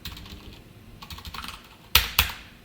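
Keystrokes on a computer keyboard during Java coding, light scattered taps followed by two sharper, louder presses, close by with no speech.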